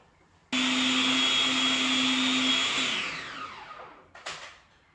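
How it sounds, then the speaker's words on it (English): A blender motor whirs loudly and steadily for a couple of seconds as it blends a thick falafel mixture, then spins down, followed by a brief clatter. "This blender is so damn efficient"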